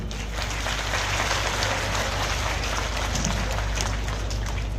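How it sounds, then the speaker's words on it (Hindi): Audience applause at a Hindu religious discourse gathering, a steady dense wash of clapping that fills the whole stretch at even loudness, with no pause. "अपने लिए तालियां बजा दें।"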